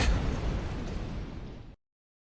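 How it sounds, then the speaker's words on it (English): A cheap-sounding video game explosion effect gives a single loud, close boom that rumbles for under two seconds and then cuts off abruptly to silence. "I love the low budget explosion asset"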